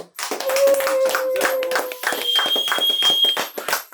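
Guests at a wedding celebration applaud with dense, lively clapping for a few seconds, while a shrill sustained whistle-like tone rings over the hands.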